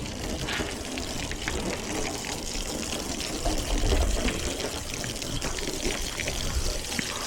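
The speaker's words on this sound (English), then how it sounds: "Water pressure is not the best today." Water from a hose splashing and pouring steadily during a car wash, a close, continuous gushing spatter with low water pressure and no voices.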